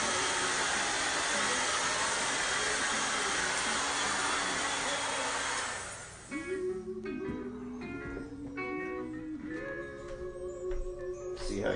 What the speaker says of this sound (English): Get your own blow dryer.